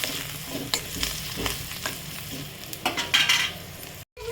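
Turmeric and chili powder frying in a pan, a constant close sizzle broken by repeated spoon scrapes and clinks against the pan, briefly cutting to silence near the end.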